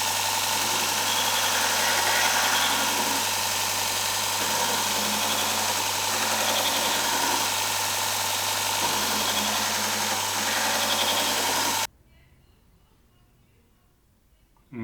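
A Robert Sorby ProEdge belt sharpener runs continuously with a steady, loud motor hum and abrasive belt whir, then cuts off abruptly, leaving near silence before a brief noise at the end.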